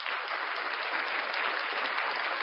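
Canned applause sound effect: a steady, dense wash of many hands clapping at even volume for a couple of seconds, with no voices over it.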